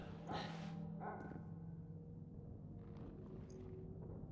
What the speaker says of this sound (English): you can kind of hear some dogs here